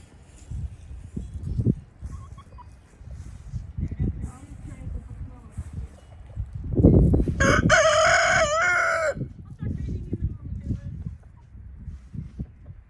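A backyard rooster crows loudly once, a strained drawn-out call in the middle, amid soft clucking and scratching sounds, with people chatting quietly around it.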